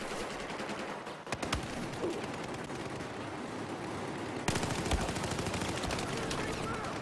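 In the Battlefield 4 video game, an MX4 rifle fires in rapid automatic bursts mixed with other game gunfire and effects at moderate level, while someone talks over the action.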